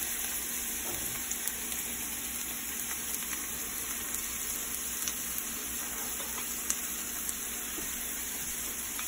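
Chopped onion and minced garlic frying in hot oil for a dried fish (chepa shutki) curry, a steady close sizzle with faint scraping stirs, no voices.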